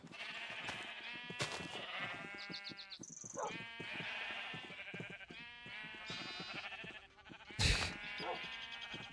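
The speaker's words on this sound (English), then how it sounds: "Yeah, we got a lot of sheep." Sheep bleat repeatedly in the video game Minecraft, several loud, close, wavering calls overlapping one another, with a brief clatter of game sounds in between.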